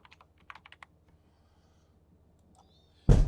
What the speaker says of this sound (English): typing localhost